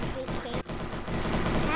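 Dense burst of video-game gunfire from the zombie shooter Scram, loud and close, with a brief gap midway before the rapid shots resume and keep going to the end.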